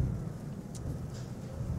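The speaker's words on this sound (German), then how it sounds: "Oh geil, es regnet." Rain falling with a low, rolling rumble of thunder in a truck-driving video game, a steady dull wash of weather sound with no talk over it.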